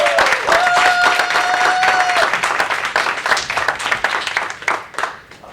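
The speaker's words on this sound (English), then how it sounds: "Let's have another round of applause for our contestants" An audience at a Toastmasters speech contest claps for the contestants, steady close applause that thins and fades near the end, with a voice audible at the start.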